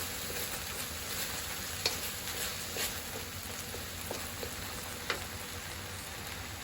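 Fish sauce and dark soy sauce being stirred in a hot frying pan, a steady hissing sizzle with faint scraping from the spatula and a few small pops, fairly close and without speech.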